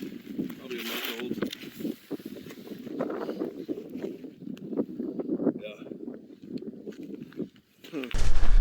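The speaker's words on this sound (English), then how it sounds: "it's far too windy for you to hear me, but it is windy as shit" Strong outdoor wind buffets the microphone in a steady low roar with gusts, rising into a heavy blast at the very end, with muffled voices underneath.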